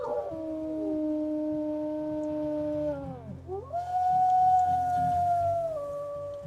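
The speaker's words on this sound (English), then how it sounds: "You can howl, I can howl too." A wolf in the video game WolfQuest howls, long drawn-out rising and falling tones, then a second howl after a short break, clear and close.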